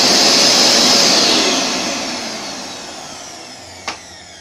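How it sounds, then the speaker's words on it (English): A vacuum cleaner run through a bypassed TRIAC whines loudly, its roar gradually winding down and fading, ending with a brief click. "I have plugged the vacuum cleaner in and this is time for testing."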